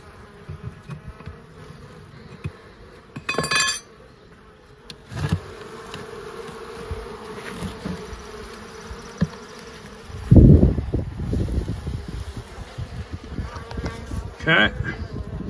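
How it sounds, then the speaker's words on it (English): Steady, close buzzing of many honeybees in an open Layens hive throughout, with occasional louder swells and a few rustling bumps and knocks. "See how the bees look on the inside."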